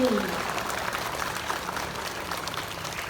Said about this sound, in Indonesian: Kita beri tepuk tangan yang meriah untuk petugas dari kelas 6B.